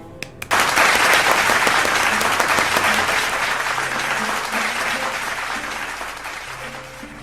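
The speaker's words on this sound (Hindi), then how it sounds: "आप जोरदार तालियों से स्वागत करिए" An audience at a Hindi poetry gathering breaks into loud, sustained applause welcoming a poet to the stage, dense clapping that gradually tapers.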